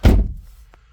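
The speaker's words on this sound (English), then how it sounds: "And shut the door" Single solid thunk of a car door shutting on a Mazda MX-5 RF 1.5 Skyactiv-G roadster, heard from inside the cabin, close and fairly loud with a quick decay into quiet.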